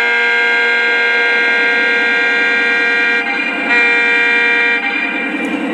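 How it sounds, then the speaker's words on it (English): Model train horn without its Legacy module, a steady, loud multi-tone blast held for about six seconds with a brief wavering near the end, sounding alone. "you get a better horn when you put your legacy module in there"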